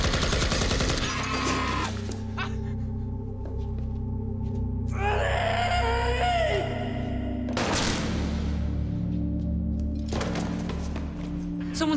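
Gunfire in a TV crime drama, several loud bursts of shots separated by pauses, set amid dramatic music and ringing tones.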